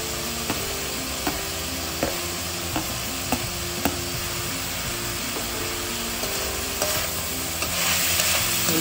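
Capsicum and spring onion stir-fried for homestyle fried rice: a continuous loud sizzle close up, punctuated by regular scraping strokes of a spatula against the pan roughly every half second, swelling slightly at the end.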